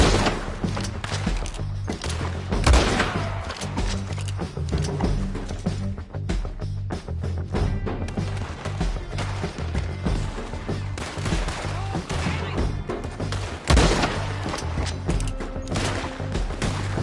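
Gunshots from a video game firefight pound almost nonstop, dense overlapping bursts with heavier booming thumps standing out now and then, loud and close the whole time.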